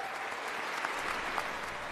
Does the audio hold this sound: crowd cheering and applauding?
yes